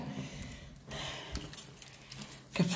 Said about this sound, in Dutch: Ik heb een hele hoop sleutels.